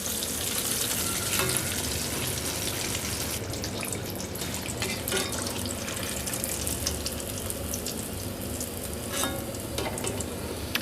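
A breaded zinger burger chicken patty fries in hot oil after being turned, giving a steady, dense sizzle and crackle that holds evenly close up throughout, with faint clinks now and then.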